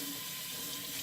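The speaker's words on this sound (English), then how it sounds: "I'm going to take this towel that I have and I'm going to get it wet with the hot water." Hot water runs from a sink tap in a steady, continuous stream, heard close and alone throughout.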